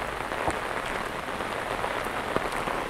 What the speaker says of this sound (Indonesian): hujannya deras banget sekarang.